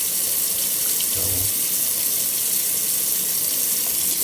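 Water runs steadily over a battery case holding a paper towel inside, a constant hissing, splashing stream that stays loud and close throughout, with one brief spoken word near the start.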